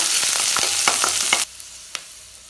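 Onions, dried red chillies and curry leaves sizzle loudly in hot oil, with a few stirring scrapes before the frying drops to a quieter crackle with occasional pops.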